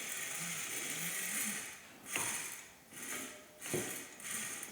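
A greased Industry Nine Hydra bicycle hub freewheel spins with a soft, continuous mechanical whir and ticking, quiet and muted, with a few rhythmic swells.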